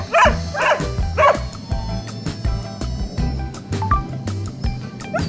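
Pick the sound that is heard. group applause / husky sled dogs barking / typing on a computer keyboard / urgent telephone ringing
husky sled dogs barking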